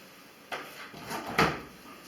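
A washing machine's detergent drawer slides out with two short plastic scraping clunks, close and fairly quiet, with no talking.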